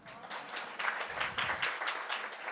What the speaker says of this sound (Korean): 박수 한번 쳐주세요, 여러분들 위해서